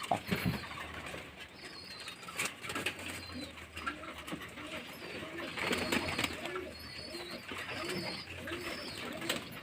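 A flock of pigeons feeds together in the May heat. Soft cooing and bursts of flapping wings come and go at moderate distance, with scattered small bird chirps and a faint voice at times.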